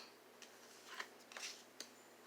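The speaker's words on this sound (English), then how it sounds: "and we gonna shuffle." Tarot cards shuffled close up in a quiet room, a few soft riffling bursts and light flicks spread over about two seconds, faint against low background hum.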